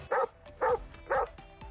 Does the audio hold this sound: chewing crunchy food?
no